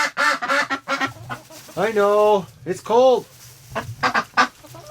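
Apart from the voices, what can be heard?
ducks honking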